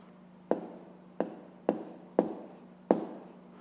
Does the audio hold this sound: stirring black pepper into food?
no